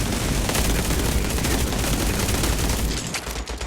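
Rapid gunfire in a shooting video game, a loud continuous burst of automatic shots and a headshot hit, fading slightly near the end, with no talking over it.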